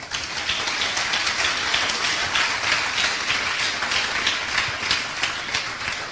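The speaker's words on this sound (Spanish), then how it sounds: "Den un aplauso al Señor" Church congregation applauding during a sermon, a dense, even wash of many hands clapping together, steady and fairly loud throughout.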